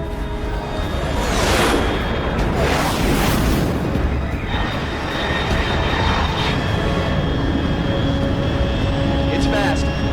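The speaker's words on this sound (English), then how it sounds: "Control, unidentified aircraft detected." A very fast aircraft in Metal Gear Solid Delta: Snake Eater roars overhead. It is a loud, sustained jet rush that swells with whooshing surges and then slowly thins out, with voices faintly present underneath.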